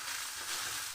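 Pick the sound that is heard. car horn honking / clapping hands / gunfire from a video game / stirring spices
stirring spices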